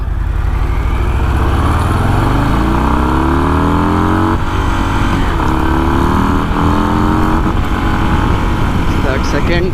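Harley-Davidson Breakout 117 motorcycle accelerating hard in first gear, its loud engine note climbing steadily in pitch with a rough, throaty roar close by, shifting near the middle and continuing to rise with strong rumbling harmonics throughout.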